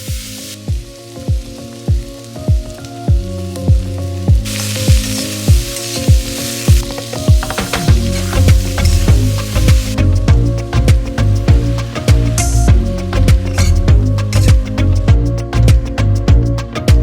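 Chicken pieces and eggs sizzle and fry steadily in a pan, a close, continuous crackle with bursts of spattering and occasional stirring clatter, growing louder and denser partway through, with no talking.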